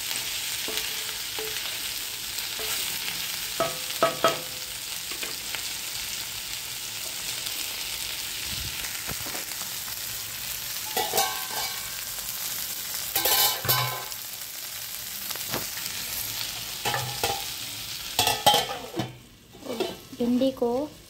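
Okra fried in a pan with chili powder, salt and spices, stirred throughout: a steady close sizzle broken by scraping stir strokes and a few utensil knocks, with no talk.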